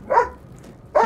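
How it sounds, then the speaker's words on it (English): Two short dog barks in the Baldur's Gate 3 video game, one near the start and one at the end, fairly close and separated by a quiet gap. "Why are you barking right this second?"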